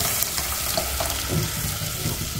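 Cooked toor dal is poured into a hot spiced tempering in a pressure cooker, giving a brief, close hiss and bubbling sizzle with a wet, splashy texture.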